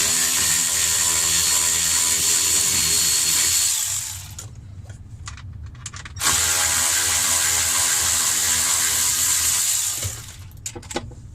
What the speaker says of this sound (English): First, I'm going to take off these 7mm screws.